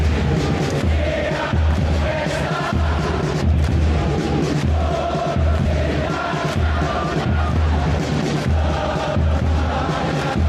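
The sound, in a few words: crowd cheering in video game eFootball PES 2021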